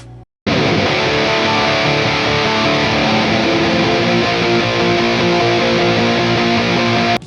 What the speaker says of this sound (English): the tones you can get out of the default sound is good enough for some really high distortion rhythm playing. They sound like this.